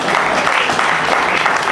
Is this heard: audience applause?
yes